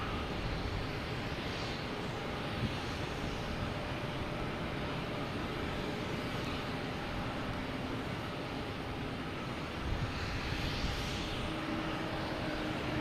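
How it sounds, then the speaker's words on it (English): Steady broadband jet rumble from a United Airlines Boeing 737 MAX 9 lining up on runway 22 at Boston Logan, a constant distant roar that holds level throughout without voices. "we have United Airlines lining up on 22, a 737 MAX 9, flight 2413, heading to Denver."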